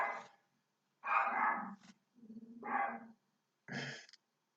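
A dog named Coco barks in four separate bursts, one rough and growly, close and clear with silence between barks and no talking.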